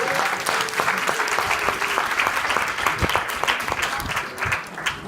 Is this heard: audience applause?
yes